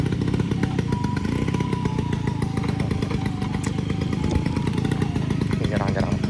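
Vespa scooter engine climbing a steep hill on the Muaro Aie road, a loud continuous buzzing drone held close throughout, with crowd chatter and voices underneath.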